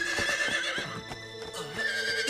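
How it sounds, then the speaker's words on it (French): In an animated Pocahontas cartoon episode, a horse whinnies loudly up close while its hooves clip-clop beneath the call, with no talk. "Le cheval de Pocahontas, mais qu'est-ce qu'il nous veut?"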